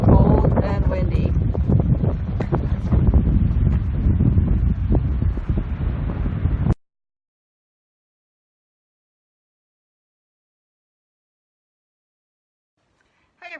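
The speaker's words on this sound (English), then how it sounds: "Sorry, it is cold and windy." Cold wind buffets the microphone on the shore at Fort Flagler, a rough, loud roar for about seven seconds before cutting abruptly to near silence, with a faint sound just at the end.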